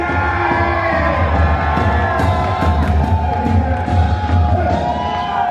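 A concert crowd on a hip-hop tour cheers and shouts for the MC, a dense, loud roar with scattered whoops and bursts of whistling over heavy background rumble throughout.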